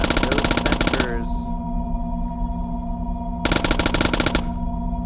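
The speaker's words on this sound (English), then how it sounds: "I'm sure you can hear some of the effects in the haptic vest" Effects from an Actronika Skinetic haptic vest during VR gunfire: two loud bursts of dense, rapid machine-gun-like rattling, separated by a quieter stretch of steady humming drone with a brief chirp.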